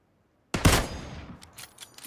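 Gunfire in a shooter video game: after a moment of silence, a loud close shot or burst cracks out, then trailing echoes and a few fainter shots follow.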